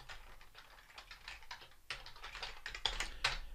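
Fingers type on a computer keyboard while column names are entered into a Microsoft SQL query: a close, steady run of quick keystrokes with brief pauses and no talking.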